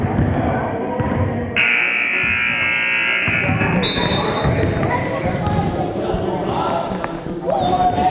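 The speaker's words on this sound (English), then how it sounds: "Guess no one cares what the buzzer means, huh?" A long, loud buzzer sounds during a coaches versus all-stars basketball game, holding steady for about two seconds over gym crowd noise, with balls bouncing and brief electronic tones before and after.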